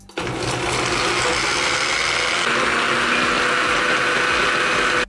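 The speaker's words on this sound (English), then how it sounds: "For this next challenge, we're gonna be blending slime." A blender with slime inside runs loud and steady for about five seconds, a dense whirring motor that shifts pitch slightly midway before cutting off sharply.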